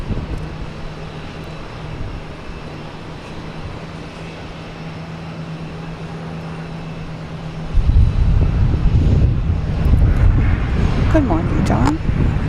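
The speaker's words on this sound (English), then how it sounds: "So we got Azores coming in, Azores Airlines, with a pure livery." An Azores Airlines airliner lands at Boston Logan Airport: a low, steady engine drone that swells into a louder, rougher roar partway through, heard from a distance.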